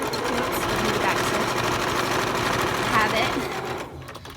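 Sewing machine running continuously as it hems the filter pocket insert of a homemade fabric face mask, a steady close mechanical whir that stops near the end.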